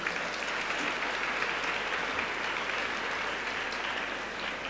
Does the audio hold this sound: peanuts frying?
no